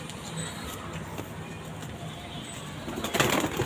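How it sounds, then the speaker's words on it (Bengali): A restless golden-eyed pigeon in a loft coos softly and flaps its wings in a short flurry near the end, over a faint background hum, with light voices nearby. "খুব ছটপটে পায়রা একটা"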